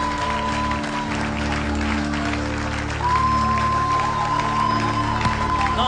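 Church congregation applauding and cheering during a prophetic service, a steady wash of clapping and crowd noise that swells louder halfway through, with a sustained tone running underneath.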